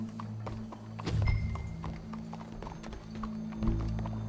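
In Red Dead Redemption 2, a horse's hooves clip-clop at a steady walking pace nearby, with a few heavier thuds among the steps.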